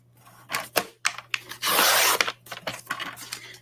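Paper being trimmed for a handmade Christmas card, a few short rasping cuts and scrapes followed by one longer continuous tearing swipe, close up, with no talking.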